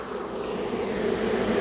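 Honeybees buzz steadily at a hive entrance after a shaken swarm, a dense continuous drone of many wings close by, holding even and slightly swelling, with no voices.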